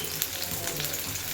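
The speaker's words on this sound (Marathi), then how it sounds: "मस्त फोडणी बसली, तेल तापलं होतं ना चांगलं" Tomato, onion and curry leaves sizzle hard in well-heated oil for a mutton masala tempering, a dense, close, continuous crackling fry with faint stirring and no voices.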